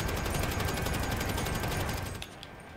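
A special weapon firing in GTA Online, as a rapid, steady burst of shots that runs loud for about two seconds and then cuts off into a quieter tail.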